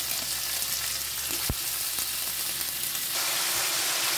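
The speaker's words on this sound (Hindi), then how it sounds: "अब मैं इसमें प्याज डाल दूंगी।" Onions tossed into garlic-ginger paste fry in a hot pan, a steady loud sizzle close up with a brief clatter of stirring midway, no voices.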